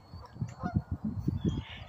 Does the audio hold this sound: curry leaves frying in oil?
no